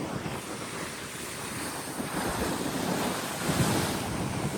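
Sea waves rolling in on a windy shore, a loud continuous rushing wash of surf that swells a little toward the end, with wind buffeting the microphone.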